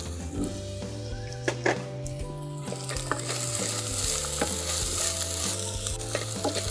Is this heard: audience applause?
no